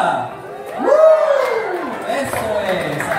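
A crowd at a primary school graduation ceremony cheers and claps, with whoops and shouts. A loud announcer's voice rises over the noise.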